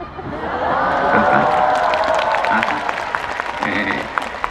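Audience applause in a crowded national audit hall, a steady burst of clapping with some laughter and murmuring voices mixed in, fairly loud and sustained before tapering slightly.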